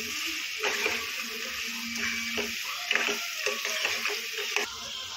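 Chicken curry seasoned with chili powder and salt is stirred in a pan, with a steady low sizzle and a run of scraping, clicking spoon strokes against the metal.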